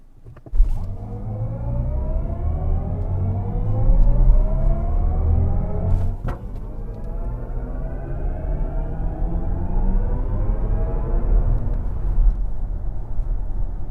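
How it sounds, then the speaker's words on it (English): An electric BMW i7 with two electric motors accelerates hard, a loud, close rising whine that climbs steadily in pitch over tyre and road roar, with a brief thump near the start and no talking. "it can definitely put the power of its two electric motors on the road."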